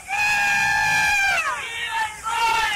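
A stadium crowd of Nicaraguan baseball fans of the Bóer team lets out a loud, sustained chorus of shouting and whooping, a dense roar of voices that swells and shifts.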